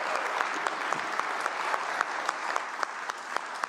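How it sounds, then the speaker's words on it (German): Audience applause for a speaker named TJ at a German-language talk, a steady dense clapping of many hands throughout, evenly loud with scattered sharper claps and no voices. "wollen wir dem TJ mal wirklich einen riesen Applaus geben?"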